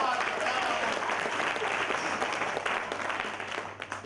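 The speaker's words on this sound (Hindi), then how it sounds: "ये जितने भी ताली बजा रहे ना," An audience at a live talk claps steadily and fairly loudly throughout, a dense continuous wash of applause with no pause.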